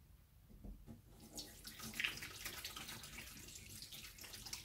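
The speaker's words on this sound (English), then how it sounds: "rinse off the hands" Tap water runs steadily while hands are rinsed off during an autumn painting project on an MDF circle, a soft continuous wash of fairly faint flow with no talking.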